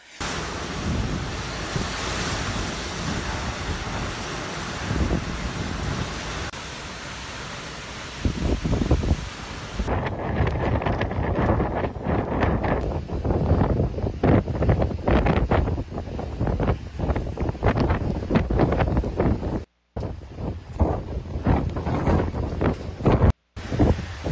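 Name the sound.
strong typhoon wind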